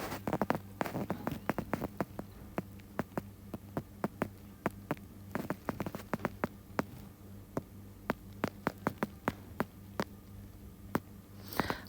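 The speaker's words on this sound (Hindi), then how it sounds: "गर्मी तो नहीं हो रही है बट बारिशें बहुत ज़्यादा हो रही है।" Rain falls during a spell of heavy rains, heard as irregular, sharp drops tapping close by over a quiet, hushed background.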